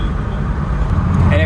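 A powerful car engine roars steadily as it accelerates hard, loud and continuous from inside the vehicle, with a voice heard over the noise.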